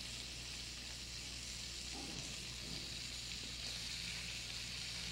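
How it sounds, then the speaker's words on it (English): Chicken livers sauté in a hot pan, a steady soft sizzle running evenly throughout with faint stirring noises in the middle, fairly quiet and alone with no talking. "the livers take only about 3 or 4 minutes to sauté"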